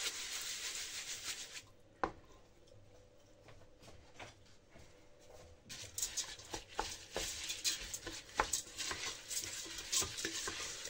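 A spoon scrapes and stirs cumin and other spices in olive oil in a pan, making steady close rubbing strokes with sharp clanks against the pan over a faint sizzling hiss.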